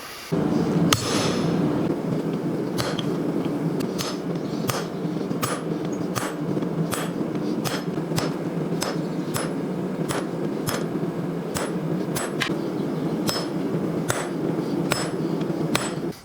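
A hammer drives a round bob punch into a forged hook, a long run of sharp metallic strikes at a slow, fairly regular pace, close and ringing over a constant background roar.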